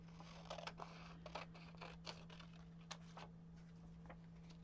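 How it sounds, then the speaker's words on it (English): Scissors snipping lace edging off a craft piece, a quiet series of crisp, uneven cuts and small scrapes, close and alone. "I'm going to cut this piece of lace edging off"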